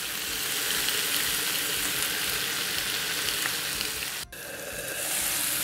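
Beef burger patties frying in a pan give a dense, continuous sizzle throughout, with one brief dip near the end before the crackling hiss resumes at full strength.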